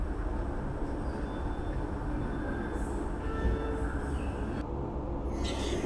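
A Bengaluru metro train pulls out of Majestic station toward Chickpete, its dense, steady rumble and rolling wheel noise filling the carriage continuously, with faint higher squeals near the end.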